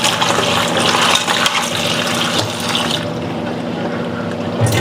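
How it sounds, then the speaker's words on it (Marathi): Fresh spinach leaves are rinsed clean for spinach puri, with water splashing and swirling loudly and steadily before easing off near the end. "हा स्वच्छ धुवून घेऊ आपण."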